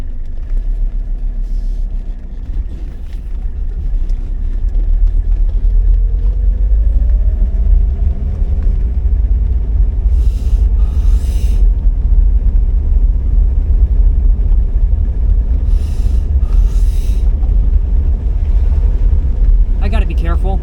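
A 1980s diesel Mercedes is driven along, its steady low engine rumble and road noise running throughout, with someone talking over it.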